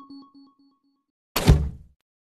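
A football fired from a cannon is stopped in a Meta Quest VR football game, giving one loud, close thunk with a short rumbling decay after a few faint tones.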